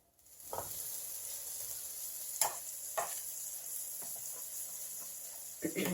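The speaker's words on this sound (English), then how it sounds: "I take a ciabatta bread roll, I butter it, and then I grill it in my grill" Buttered ciabatta bread rolls sizzle on a grill at medium heat, a steady soft hiss with a few sharper crackles and pops as they are placed, nearby and alone without talk.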